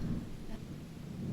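A thunderstorm rumbles outside a hotel, a low, steady roll of thunder mixed with rain, moderately loud and continuous for about a second.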